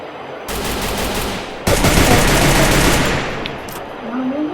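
Rapid automatic gunfire in the mobile battle-royale game Free Fire, loud and continuous, growing denser partway through before easing toward the end.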